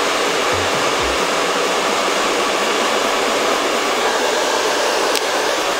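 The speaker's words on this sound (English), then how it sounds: "I also find that my blow drying time is much quicker with this product too" A hair dryer blows steadily and loudly during a blow-dry, a constant close rushing of air that continues throughout with no talking.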